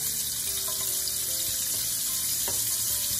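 Cumin seeds and two black cardamom pods sizzle in melted fat while making malai kofta, giving a steady, close crackling hiss throughout with a few small pops and clinks, no voices.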